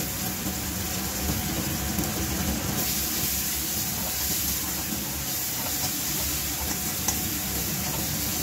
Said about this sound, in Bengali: পেঁয়াজটা লাল লাল করে ভাজা হবে, তারপর মশলা।